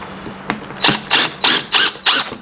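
A power driver sinks self-tapping deck screws in five quick, evenly spaced whirring bursts, close and fairly loud, with a sharp click just before the run.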